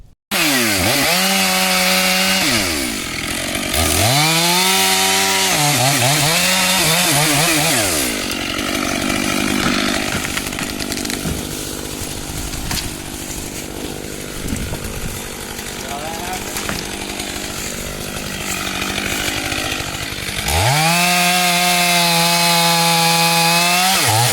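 A chainsaw cuts into tree wood, with a loud, close engine alternating between idle burbles and full-throttle revving bogged down in the cut, a long harsh grinding stretch in the middle before it drops back to idle.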